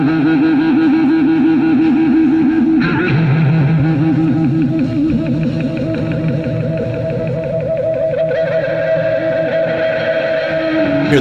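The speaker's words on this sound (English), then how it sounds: "he just dumped a bunch of reverb on it" Heavy studio reverb from a large echo chamber on the outro of a recording, with sustained wavering, vibrato-laden tones washing into a long reverberant tail, loud and continuous with no talking.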